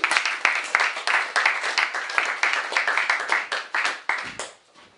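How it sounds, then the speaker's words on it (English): Applause from a comedy audience for a volunteer: a small crowd's brisk, closely spaced claps in quick bursts that thin out and fade to near silence at the end. "Let's have a round of applause for the volunteer."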